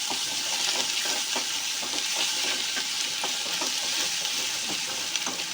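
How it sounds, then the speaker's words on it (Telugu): Chicken liver curry with ginger garlic paste fries in a pan, a dense, even sizzle with frequent light clicks and scrapes from stirring throughout. "అల్లం వెల్లుల్లి పేస్ట్ చేసుకున్నాం సార్ బాగా కలుపుకోవాలి వేయించుకోవాలి ఫ్రై చేసుకోవాలి"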